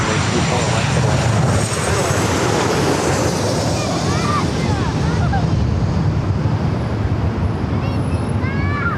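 An Airbus A320 airliner landing at LAX gives a loud, continuous roaring engine rumble with heavy wind buffeting on the microphone, steady throughout, while a voice speaks over it.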